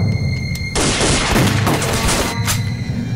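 Gunfire erupts abruptly in a war drama set around the siege of Nanchang, a dense volley of loud, overlapping shots and booms that fills the scene for a couple of seconds before easing slightly, with no talk over it.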